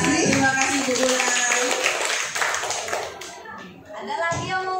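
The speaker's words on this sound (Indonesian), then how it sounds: "tepuk tangan untuk Bu Sri" A small group of teachers claps for a colleague at a positive-discipline classroom activity, with scattered, uneven clapping under overlapping chatter and children's voices, fading midway before picking up again.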